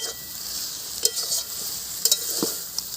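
Seeded banana chechki stirred and fried in a pan, with a steady soft sizzle and a few sharp scrapes of the spatula against the pan.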